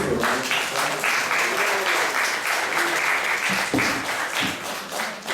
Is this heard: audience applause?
yes